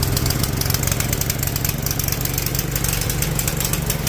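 A lawn tractor engine converted to run on propane chugs steadily nearby, a loud, continuous rhythmic putter with a knocking low drone and no voices.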